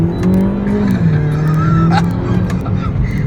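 A 2013 MINI Cooper S Coupe launching and accelerating, its engine loud and close with a rising then shifting tone, in-cabin, with brief tire-like squeaks over steady road roar.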